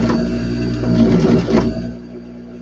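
A sewing machine stitching fabric backward, giving a close, loud mechanical whir with a rhythmic beat that runs for about two seconds and then stops.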